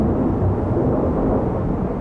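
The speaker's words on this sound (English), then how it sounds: "Thunderstorms, lightning, and high winds." Thunder rumbles through a thunderstorm, a dense low roar that fills the whole stretch without a break, with no voices.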